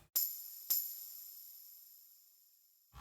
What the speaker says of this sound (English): I have these 2 little bells,